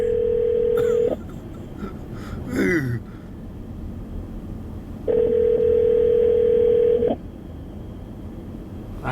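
A landline telephone gives out a steady dial tone, then keypad dialing tones, then the dial tone again. The tones are loud and close, with brief quiet gaps between them.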